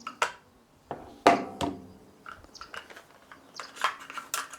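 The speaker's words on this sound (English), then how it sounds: "Pull the bolt out, pretty much like a Scorpion 2" Bolt pulled out of a Lucansky Arms Divided Matter rifle during disassembly, a few sharp metallic clicks and slides up close, separated by short pauses and followed by lighter handling rattles.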